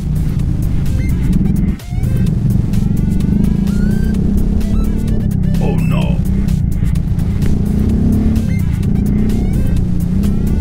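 A trail motorcycle's engine drones steadily up close amid city traffic, with other vehicles passing, occasional horn toots, and a brief dip in the rumble.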